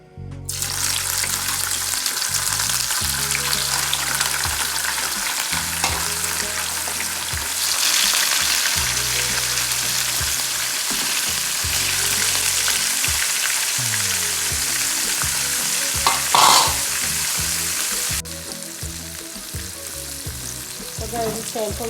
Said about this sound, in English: Now it's time for me to fry our saltfish.